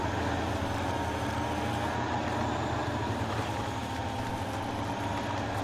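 A truck engine in the game Spintires pushing a car, a steady low rumble with a constant droning hum that holds at an even level, with no talk over it.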